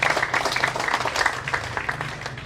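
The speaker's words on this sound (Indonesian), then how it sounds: "Tepuk tangan untuk nenek moyang kita" An audience claps for their ancestors at the opening of a credit union building in East Nusa Tenggara, with dense crowd applause that is continuous and fairly loud across the whole stretch.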